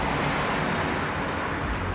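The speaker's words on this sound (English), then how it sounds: "The cars are so loud today." Steady loud roar of car traffic on a road outside an apartment, a continuous broadband wash of passing vehicles with no breaks, close and constant throughout.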